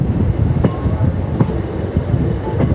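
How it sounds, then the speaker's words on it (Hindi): Empty MEMU passenger train rolling past near Aunrihar Junction, a steady loud rumble of wheels and cars with a few sharp clanks at irregular moments, close by and continuous throughout. "देखिए खाली ट्रेन जाती हुई अभी आउटर पे लगेगी जाके"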